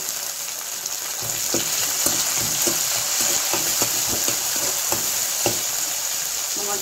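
Green chilli, onion and tomato frying in oil in a kadhai, a strong steady sizzle with regular spatula scrapes and taps as the mixture is stirred.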